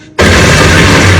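A sudden, loud explosion in an arena from The Hunger Games erupts after a brief quiet moment, then sustains as a dense, roaring blast with heavy low rumble for about a second.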